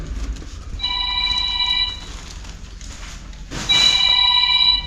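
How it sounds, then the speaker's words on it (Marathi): A telephone rings in two electronic bursts, each lasting about a second, loud and close against a low background hum. "माझी फोन आला"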